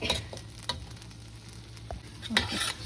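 Tilapia pieces frying in a pan for fish curry, a soft steady sizzle broken by scattered stirring scrapes and clicks, fairly quiet and close with no voices.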